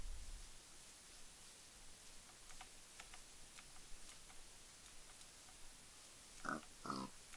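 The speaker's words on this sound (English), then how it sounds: "Oh, pigs. Let's go kill some pigs." Pig grunts in the Minecraft video game: two short, fairly loud oinks near the end, after a stretch of faint ticking and low hiss.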